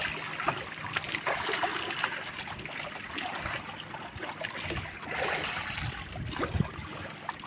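Strong river current rushes and churns near a fishing boat, a continuous broadband wash of flowing water with splashy surges, steady and moderately loud without speech.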